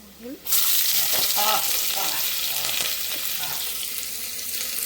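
Hot oil for mutton biryani, sizzling loudly after a brief quiet start, then a steady frying hiss with a few soft stirring scrapes, close by and with no talking.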